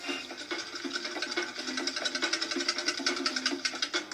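Three eggs and milk whisked in a bowl for Italian crespelle batter, giving a rapid, steady, rhythmic clicking and scraping that runs close and fairly loud throughout, with no talking.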